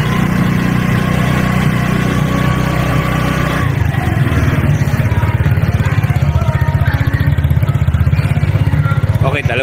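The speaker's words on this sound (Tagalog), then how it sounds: "Po ang tunog ng kanyang stock muffler." A Keeway X-Speed 125 motorcycle idles on its stock twin-tube muffler, a steady close exhaust burble that shifts partway through into a deeper, pulsing throb.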